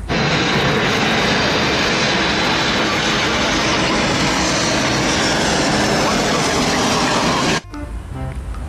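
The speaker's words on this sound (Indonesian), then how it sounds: "Wadidaw, ada pesawat terbang teman-teman." An airplane engine roars loudly in a mobile shooting and vehicle-collecting video game, a dense continuous drone held steady for several seconds before cutting off abruptly.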